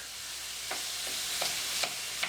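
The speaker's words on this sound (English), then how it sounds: "Get my chicken in. And we will get that all fried up and not actually cooked." Steady, close sizzling of chicken frying in a hot pan, with a few soft scrapes and stirring clicks.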